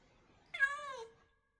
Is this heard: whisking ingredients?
no